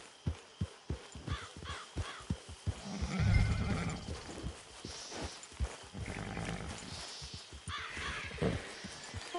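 Horse in the Red Dead Redemption 2 video game, rhythmic hoofbeats thudding close by, then a loud whinny and snorting, with quieter game ambience around it.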